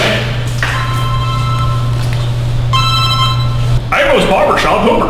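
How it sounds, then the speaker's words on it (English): Telephone bell rings in a barbershop, two bright electronic trills separated by a pause, loud over a steady low hum, followed by a rustling pickup sound. "Oh, a phone call."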